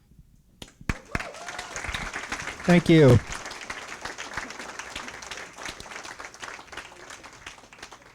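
Applause from an awards-ceremony audience builds into a steady, sustained patter of many hands clapping, with a short spoken thanks over it.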